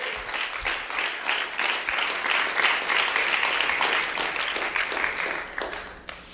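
An audience bursts into strong applause during a talk on the Great Flood, a continuous wash of many hands clapping, steady and moderately loud for about six seconds.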